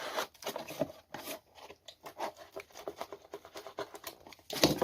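Scissors cut through paper or card while a toy train is being made at a table, giving a run of close, crisp snipping and rustling strokes with brief pauses, ending in a louder burst of handling noise.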